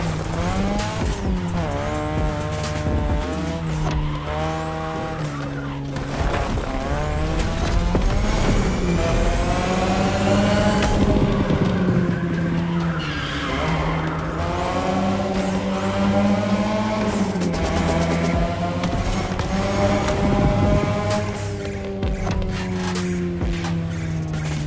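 Race car engine driven at high speed in The Crew Motorfest racing game, loud continuous engine whine climbing and dropping through gear shifts, with tire squeals along the way and no voices.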